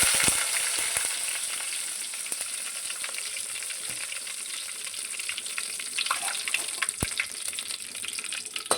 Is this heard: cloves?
yes